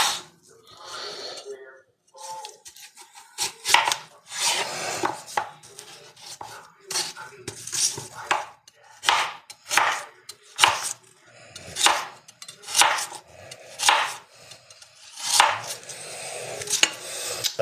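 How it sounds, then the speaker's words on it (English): Repeated knife strokes scrape and knock against a cutting board in short bursts, close up and fairly loud, with brief pauses between them. "really hate the sound of a scraping knife on a board"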